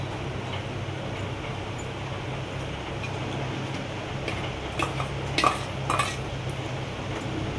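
Homemade butter going into fried moong dal in a pan for laddu, heard as a steady close scraping and stirring with a faint sizzle and a few sharp utensil clicks near the end, no talking.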